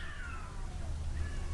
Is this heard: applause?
no